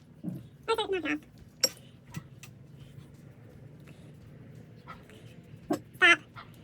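A pet dog named Arthur lets out a few short, sharp barks and yelps indoors, scattered sparsely across a quiet background, near and fairly loud, with a person speaking between them.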